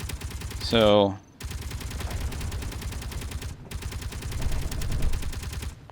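A Gatling turret in Space Engineers fires in rapid sustained bursts, two long runs of dense rattling shots separated by a brief gap, preceded by a short tonal chirp, with one word of talk near the start.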